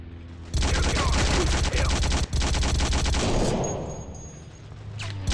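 Dense rapid gunfire crackling from a World War II-era online shooter, World War Heroes, with a thrown grenade landing far off; continuous loud bursts that thin out near the end.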